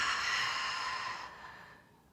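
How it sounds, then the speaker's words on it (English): A deep, slow breath drawn in unison by people in a quiet room, a soft airy rush lasting about a second and a half before gently fading, close and alone with no talk over it. "let's take a deep breath together."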